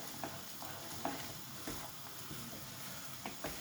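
Sauce being stirred into pasta bolognese in a pan, a soft continuous sizzle with faint scraping stirs and small periodic clinks at an even pace.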